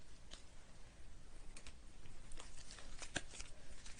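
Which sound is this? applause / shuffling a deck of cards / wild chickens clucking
shuffling a deck of cards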